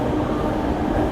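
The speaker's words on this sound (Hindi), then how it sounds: "यहाँ से अपने देहरादून शताब्दी जो है वो फाइनली निकलते हुए।" The Dehradun Shatabdi Express pulls out of the station with a steady, loud, low rumble of rolling rail cars filling the short stretch.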